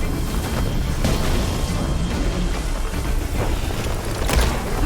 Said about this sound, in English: Shooting off those Ravager cannons